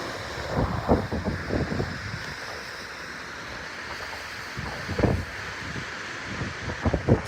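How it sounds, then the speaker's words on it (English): Strong wind roars through coastal trees on the Oregon and Washington coast during a windstorm, a steady rushing wash with repeated louder gusts, no voices. "Wind is blowing pretty good up in those trees."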